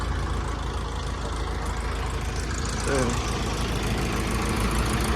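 Several tractors idle together at a village embankment soil-filling effort, making a steady, low mechanical rumble. Voices can be heard faintly under the engines.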